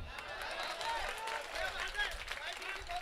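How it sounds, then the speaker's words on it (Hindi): Audience applause and clapping at an all-India mushaira poetry gathering in Badnera, Amravati, a steady broadband patter filling the space with crowd noise and some voices mixed in. "रोक सको तालियां तो रोक लेना"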